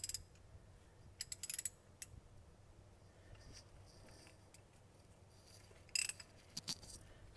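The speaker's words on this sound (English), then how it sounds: "we'll get the socket tool and make sure we're going the right direction." Ratcheting socket tool on the CNG filter of a 2012 Honda Civic CNG: short bursts of quick clicking come in clusters between quiet gaps, close and crisp against a faint low hum.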